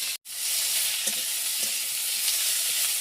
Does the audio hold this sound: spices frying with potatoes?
yes